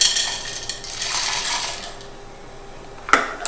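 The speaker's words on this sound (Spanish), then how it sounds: "agregamos primero las almendras a nuestro procesador de alimento o licuadora" Almonds tumble into a food processor or blender jar with a brief hard clatter, followed by a single sharp click near the end, close and clear.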